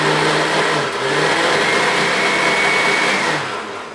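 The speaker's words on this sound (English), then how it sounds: "Now I'm going to go over here and go to my blender" A kitchen blender grinding a protein diet shake, a loud, close, continuous whirring roar that holds steady for several seconds before easing off slightly at the end, with nobody speaking.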